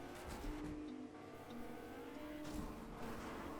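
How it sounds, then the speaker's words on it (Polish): Car in the Fortnite video game driving toward the player, a steady engine drone with a faint whine, moderately close and continuous with no voices. "W tym momencie jedzie do nas samochód, który nawet nie ma kół"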